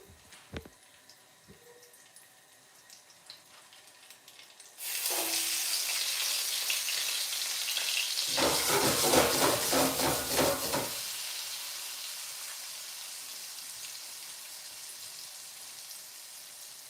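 Dried tripe frying in a pan as part of a lobster with garlic noodles dish, a loud sizzle bursting in after a few quiet seconds, swelling briefly, then settling into a steady crackle.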